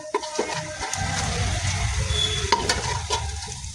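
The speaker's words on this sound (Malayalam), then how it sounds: "ഇത്ര എണ്ണ വേണം, ഇത്രയും മൂത്ത് വന്നാൽ മതി നമുക്ക് ചിക്കനെ" Chicken frying in plenty of hot oil for a Kerala pepper chicken, a steady broadband sizzle with scattered pops and occasional stirring clinks, close and continuous without talk.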